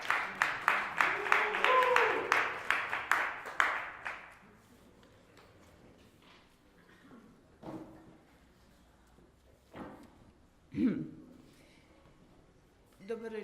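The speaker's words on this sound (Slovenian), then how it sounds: "En aplavz." Audience applause for a poet at an evening cultural performance, a burst of many hands clapping in the first four seconds that abruptly stops, followed by quiet room tone with a few soft thuds and shuffles.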